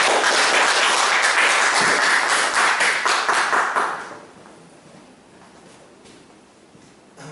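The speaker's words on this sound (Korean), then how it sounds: "다시 한번 이재영 정치 박사님께서 멋진 강의해 주시는데 큰 박수 부탁드리겠습니다." An audience applauds after a lecture on the conflict between progressives and conservatives, with dense, steady clapping for about four seconds that then drops quickly to scattered claps and room noise.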